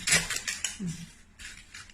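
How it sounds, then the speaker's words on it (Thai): A knife chops freshly washed yanang herb leaves into short pieces on a cutting surface for an herbal drink, giving several quick, close cutting taps with no talking. "หั่นให้มันสั้นนะคะ แล้วจับอย่างนี้นะคะเราก็หั่นลงไปนี้นะคะ"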